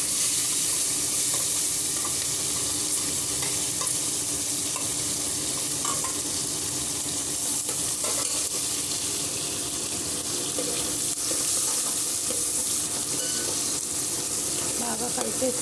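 Onion, green chili and cashews frying in hot oil while being stirred, a dense, steady crackling hiss that runs continuously at close range with faint scraping mixed in.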